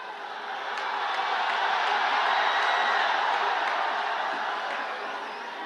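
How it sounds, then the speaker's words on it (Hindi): A large outdoor crowd applauds and cheers to welcome Chirag Paswan at a Lok Sabha election rally in Hajipur, Bihar, a dense, sustained roar that swells and then eases slightly over several seconds. "जोरदार ताली से चिराग पासवान जी का स्वागत करिए"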